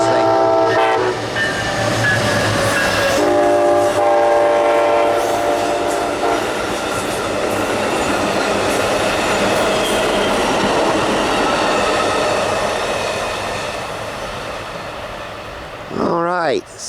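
Amtrak 89, the Palmetto, a passenger train led by a Siemens Charger locomotive, sounds its horn in sustained chord blasts near Langford on the RP&F line, then the cars roll past with a loud steady rumble and clatter that slowly fades.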